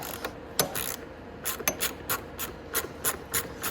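A ratchet tool loosens a bolt under the front fender of a Venom Grizzly 125cc ATV, making a quick series of sharp metallic clicks in uneven bursts, close by over a low background hiss.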